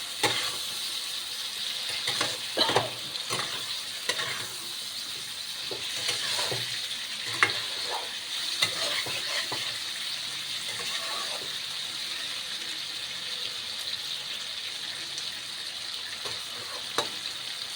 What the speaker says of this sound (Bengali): আদা রসুন কষানো হয়ে যায়